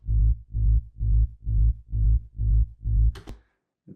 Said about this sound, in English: First layer is like our low bass, sub bass.